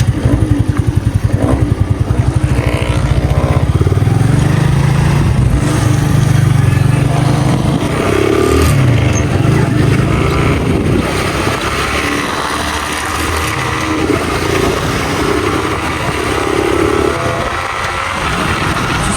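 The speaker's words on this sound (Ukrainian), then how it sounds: "заводимося і поїхали" Alpha moped engine starting and riding off with a second moped, a buzzing light single-cylinder note that runs steadily and fairly loud throughout, rising and settling as the bikes pull away.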